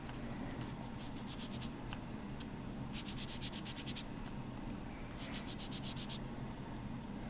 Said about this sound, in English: I'm just going to quickly knock that down with my sanding stick